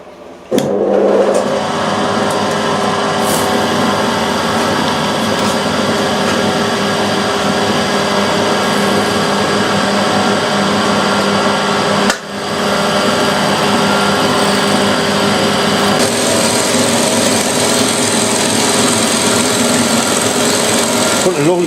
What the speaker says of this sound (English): I've just got enough travel to be able to machine this edge square